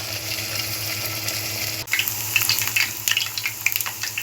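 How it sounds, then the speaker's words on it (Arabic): Water poured into a pot of simmering tomato sauce, a steady hissing splash and sizzle that grows busier and louder partway through, close and alone without any talk. "دلوقتي انا هنزل عليها بالميه وهسيبها تغلي"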